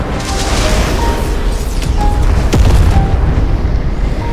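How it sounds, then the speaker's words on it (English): A massive explosion of bombs rumbles on in a deep, sustained roar, loud and close, with a sharper crack partway through as the blast swells. "the flames trigger those bombs, creating an even larger explosion"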